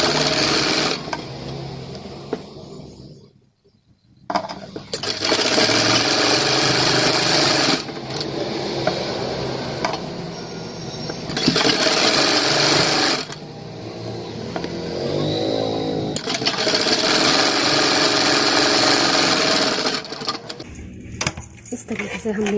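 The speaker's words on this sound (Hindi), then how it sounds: "फिर थोड़ी दूरी पे से सिलाई लगाना शुरू कर देंगे" A sewing machine stitches fabric for a pair of shorts, running in several bursts of rapid, even clatter separated by short pauses, close and fairly loud, with a brief quiet gap early on.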